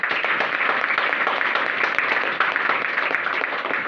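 An audience gives a round of enthusiastic applause for a man called Riyaz, continuous clapping holding steady throughout with no speech over it.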